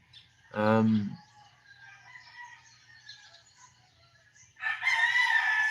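Roosters crow in the early morning, near 4 a.m., with one loud close crow at the start and a second long crow near the end, with faint bird calls and low steady background rumble between them.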